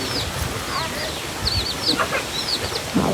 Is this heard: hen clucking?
yes